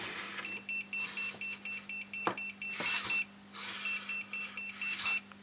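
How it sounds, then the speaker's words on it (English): A Mastech MS2115A clamp meter emits a series of short, evenly repeated electronic beeps while sensing voltage without contact, sounding close and fairly quiet. "As you can see, when I tap it, it beeps."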